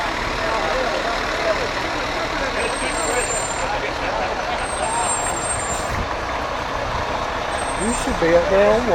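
Fire trucks roll past in a Veterans Day parade in Aberdeen, North Carolina, a steady engine rumble with a brief air-brake hiss, heard amid crowd chatter and onlookers talking throughout.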